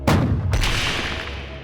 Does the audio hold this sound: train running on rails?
no